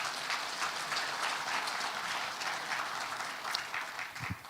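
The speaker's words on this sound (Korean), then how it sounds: "인정하시면 박수 부탁드립니다." Applause from a lecture audience at a Busan District Court special talk, steady dense clapping spread across the hall at a moderate, somewhat distant level, with a few sharper claps near the end.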